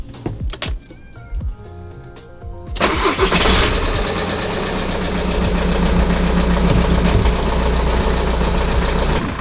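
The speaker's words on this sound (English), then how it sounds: "start your vehicle engine" A few clicks and short tones, then a car engine turns over and settles into a steady, rumbling idle that continues to the end.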